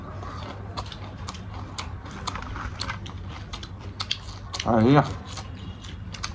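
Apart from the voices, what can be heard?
crunching fried bean worm insects while eating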